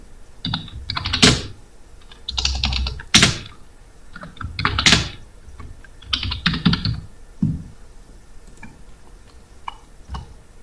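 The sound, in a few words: typing Urdu text on a computer keyboard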